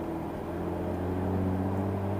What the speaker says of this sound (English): hearing a car that has an exhaust like this, it puts a smile on my face